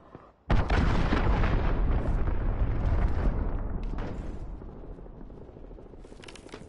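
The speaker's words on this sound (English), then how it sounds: "Allied cruise missile away." An allied cruise missile strike in a combat video game lands with a sudden loud explosion, followed by a long rumbling roll of blast and debris that slowly fades, with no talk over it.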